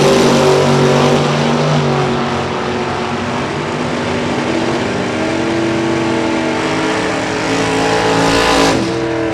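Loud, close roar of drag racing cars at Kil-Kare Dragway, one a Camaro, engines revving with harmonic whine that holds steady through the run, then surges briefly near the end.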